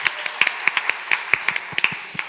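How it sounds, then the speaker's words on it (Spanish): An audience applauds the teachers at an education talk, sparse individual claps heard close and distinct in an irregular patter, only a few hands rather than a full crowd. "Y el aplauso es para todo el profesorado"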